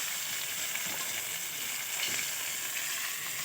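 Rohu fish nearly done frying in a pan of oil, giving a continuous close hiss and sizzle with soft stirring sounds mixed in, and no voices.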